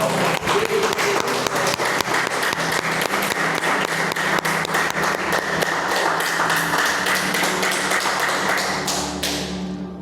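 A church congregation applauds in sustained, dense clapping that fills the room for several seconds, then thins out and fades near the end.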